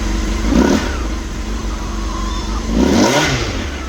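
A 1989 Honda CBR1000F motorcycle engine, running without coolant, blips up twice in quick, close revs with a steady idle rumble between them.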